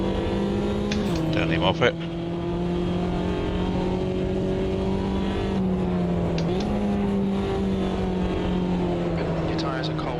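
A race car in a Silverstone 2001 racing game passes close by, its engine whine holding steady and dipping in pitch, over the player's own car drone, with someone talking over it.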